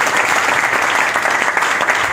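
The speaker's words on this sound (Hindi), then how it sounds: "एक बार जोरदार तालियां उनके लिए" Loud, sustained applause from an audience at a motivational seminar honoring a guest, dense clapping filling the whole stretch without pause and without speech.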